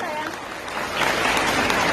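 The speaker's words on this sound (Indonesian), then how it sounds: "Tepuk tangan untuk beliau." Audience applause at an alumni gathering with an Islamic sermon, a steady dense wash of clapping that swells slightly halfway through, moderately loud and sustained without pause.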